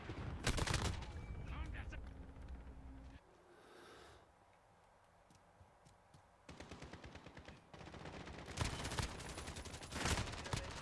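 Gunfire in a Call of Duty Modern Warfare multiplayer match, with loud bursts of rapid automatic shots at the start and end, a quieter lull in between, and a player talking over the action.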